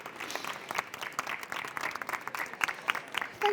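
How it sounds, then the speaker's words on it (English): Audience applause welcoming a speaker at a talk, a moderate crowd clapping with distinct individual claps, steady and fairly close, continuing throughout at an even level. "So big round of applause."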